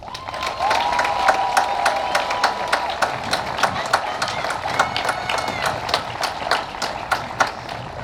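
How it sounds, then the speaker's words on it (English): A graduation ceremony audience gives a sustained round of applause for the 2023 graduates, with dense, rapid clapping close by and steady throughout. "Graduates, let's give them a huge round of applause."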